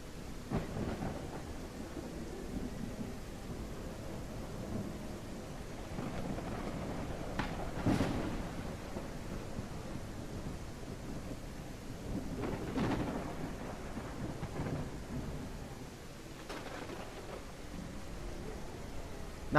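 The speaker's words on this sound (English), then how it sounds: "I also love how loud this storm is." Loud thunderstorm with steady heavy rain throughout, low rumbling thunder rolling in repeatedly with several sharper cracks, wind buffeting the microphone at times.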